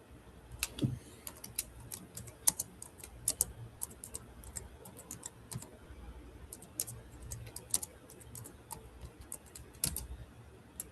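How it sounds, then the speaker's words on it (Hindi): Typing on a computer keyboard produces a steady patter of quick, light clicks and taps, irregular in rhythm, faint and close, heard over a quiet hiss with no talking. "अब आपकी टाइपिंग की आवाज आ रही"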